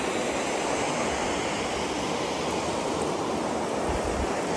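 River water rushing steadily at a bathing spot in Sumpul, Chalatenango, a dense continuous broadband roar with no pauses, close and loud, with no voices.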